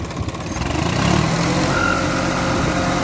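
Tractor engine fitted with a turbo runs close and loud, building up over the first second and then holding a steady, dense rumble with a faint whine.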